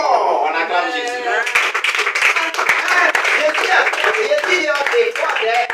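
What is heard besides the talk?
congregation clapping and acclaiming in church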